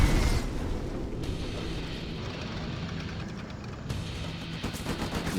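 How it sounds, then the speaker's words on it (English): Explosions from a carpet bomb striking central defenses in a real-time strategy video game, a dense run of heavy booms and crackling blasts with a few sharp bursts near the end. "sending a carpet bomb for more damage on those central defenses"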